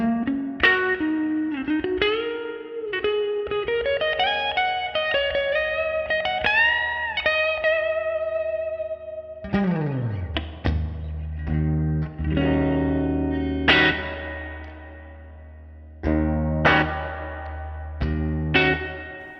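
An electric guitar plays a clean tone through a Fender amp with the guitar volume rolled back and the master turned up, ringing bent melodic notes followed by sustained chords with echoing tails, loud and close with no talking.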